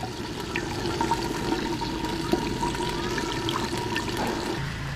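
Gravy being ladled or poured off cooked mutton for haleem in a home kitchen: a steady, close liquid pouring and trickling with faint utensil clinks, no voices.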